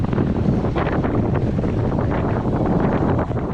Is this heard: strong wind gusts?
yes